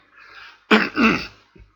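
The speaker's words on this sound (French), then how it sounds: "désolé pour ma toux" One short, harsh cough, close to the microphone, with a faint throaty sound before it and a small catch after.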